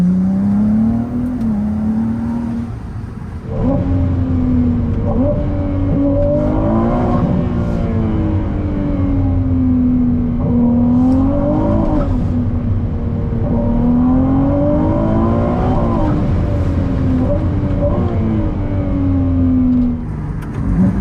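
Ferrari 296 GTB hybrid V6 pulling hard in qualifying mode, engine and electric motor working together, its note rising and falling through repeated gear changes, loud and close from inside the car with no talk.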